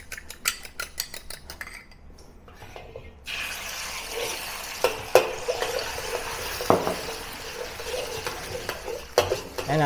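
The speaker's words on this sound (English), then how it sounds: "I also need egg for my fried rice, so I make a scrambled egg." Egg being scrambled in a wok for beef fried rice, with a soft sizzle and repeated metal utensil scrapes and clinks against the pan, close by, no talk.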